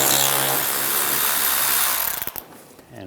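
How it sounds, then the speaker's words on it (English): A power tool driving an 8mm socket to back out a screw on a 2013–2016 Dodge Dart during front lower control arm work, a loud continuous whir that winds down and stops, followed by a few faint clicks. "Use an 8mm socket, take this screw out."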